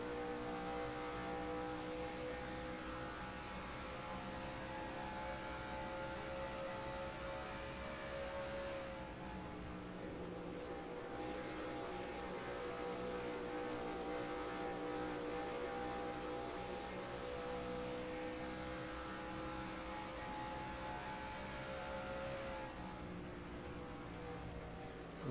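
Race cars run on the Chicagoland track in the NASCAR Racing 2003 video game, engines holding a faint, steady whining drone that swells and dips slightly as the car laps.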